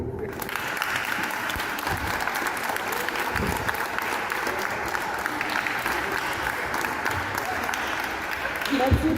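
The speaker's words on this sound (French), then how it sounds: "Applaudissez-vous." A church gathering of a Legion of Mary curia in Ouakam applauds, steady dense clapping from a crowd that carries on evenly for several seconds and swells slightly at the end.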